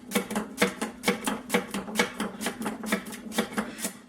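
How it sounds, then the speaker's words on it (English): Thin slices of yam cut on a mandolin, a steady rapid series of crisp slicing strokes at an even rhythm, close and clear with no talking. "I'm going to be using the mandolin to slice these things thin."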